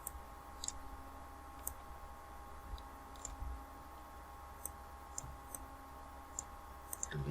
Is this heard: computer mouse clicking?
yes